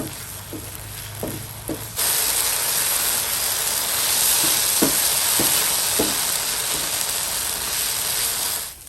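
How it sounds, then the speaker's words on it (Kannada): Masala roasting in a hot pan for a Mangalore-style mackerel fry, giving off a loud, steady broadband sizzle with a few sharp scraping ticks from stirring, close up and with no talk. "ಓಕೆ ನೋಡಿ, ಮಸಾಲ ಚೆನ್ನಾಗಿ ರೋಸ್ಟ್ ಆಗಿದೆ."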